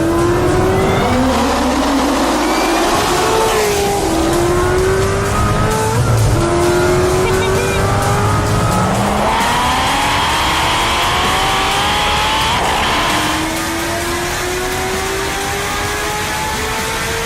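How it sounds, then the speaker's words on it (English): A Chevrolet Corvette C6 ZR1, around 800 horsepower, revs hard through rising and falling gear sweeps, loud and close, with brief tire squeal mixed into the engine roar and no talking. "we're going to be having fun with our favorite Corvette, C6ZR1"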